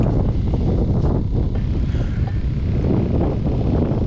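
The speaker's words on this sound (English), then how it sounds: "It's cold, it's windy." Cold January wind blows hard across open water on Maryland's eastern shore, a steady, close roar of buffeting gusts on the microphone that fills the whole stretch without letting up.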